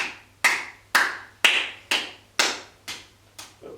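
Hands clap in a steady series of eight sharp, close claps about half a second apart during a beginners' yoga self-massage routine, with a faint low hum underneath.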